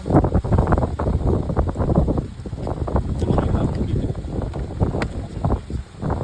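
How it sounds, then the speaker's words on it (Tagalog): Strong wind buffets the microphone in a continuous, roaring low rumble with gusty surges, steady and loud throughout. "Sobrang hangin dito. Ang init pa ng hangin."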